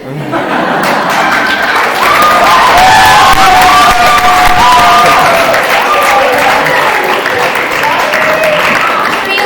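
Audience at a school changemaker showcase presentation in Bilbao breaks into sustained clapping and cheering, a loud dense crowd roar with whoops and some laughter throughout.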